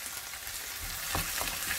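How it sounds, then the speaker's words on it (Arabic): Pumpkin stirred and fried in a pot gives a steady broadband sizzle, with soft scraping stirs growing slightly louder near the end; no voices. "هنا غادي نضيف القرعه وغادي نحرك بنفس الطريقه حتى تدبل"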